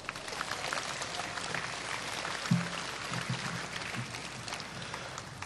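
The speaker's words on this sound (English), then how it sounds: "Please give yourself a big round of applause." Graduates applaud at a university fall commencement ceremony, a steady wash of clapping from a large crowd heard at moderate distance, fairly quiet, with a brief low thump partway through.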